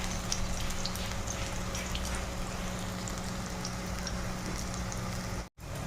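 Pumpkin flower fritters, battered like onion pakora, fry steadily in hot oil, giving a continuous close crackle and hiss with fine popping throughout and one brief dropout near the end.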